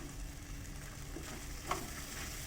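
Potatoes and spices sauté in oil in a pan for a chickpea curry, a soft steady sizzle with a faint stir near the end, quiet and close with no talk.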